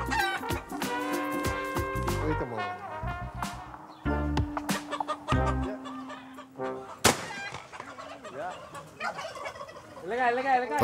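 Domestic fowl near a chicken run in Curaçao, with gobbling and clucking calls in loud, close bursts, harmonic squawks overlapping and pausing irregularly.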